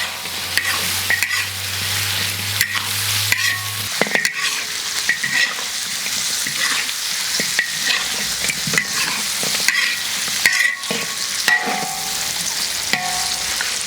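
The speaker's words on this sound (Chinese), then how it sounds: "让它炒一下，下点花椒，来点料酒" Pork ribs and pork belly with wild termite mushrooms stir-fried in a wok with Sichuan peppercorns and cooking wine: a continuous close sizzle with repeated scraping and clinking of a spatula against the pan.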